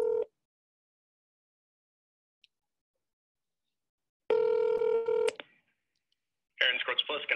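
A telephone call is placed: a short tone, then after a pause a ringback tone, then another burst of ringing tone near the end, with silence between.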